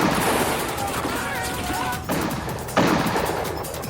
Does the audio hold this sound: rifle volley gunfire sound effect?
yes